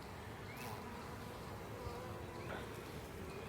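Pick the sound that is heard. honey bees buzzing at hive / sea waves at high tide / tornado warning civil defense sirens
honey bees buzzing at hive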